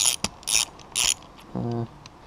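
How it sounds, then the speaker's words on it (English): Mechanical clicks and a short ratcheting whir come from removing the automatic cam chain tensioner of an oil-starved CBR motorcycle engine. A few sharp close taps are followed by a brief buzzing rattle, with no talking. "Let's take the cam chain tensioner off."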